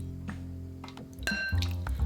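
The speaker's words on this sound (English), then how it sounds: "Then filter the water, pour it directly on the chicken." Strained water poured directly onto raw chicken pieces in a bowl for sweet and sour chicken, a brief liquid splash and trickle with light clinks close by.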